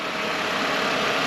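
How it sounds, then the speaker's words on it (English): A 1995 Mercedes-Benz E320 Cabriolet engine idling smoothly, a steady, even hum with faint hiss and no voices. "Very smooth running engine."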